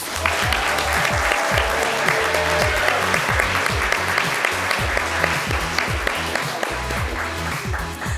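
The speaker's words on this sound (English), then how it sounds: "let's give another round of applause to our winners and participants" A crowd applauds winners and participants at a pitch-competition entrepreneur event in Grand Rapids: sustained, loud, dense clapping throughout, with a thumping rhythmic music beat running underneath.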